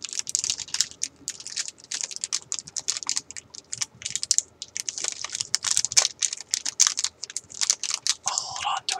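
Plastic packaging around a VGA to HDMI adapter crinkles close up in quick, irregular bursts of crackling, handled steadily and fairly loud without speech.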